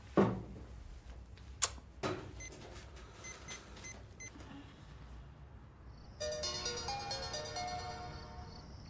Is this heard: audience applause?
no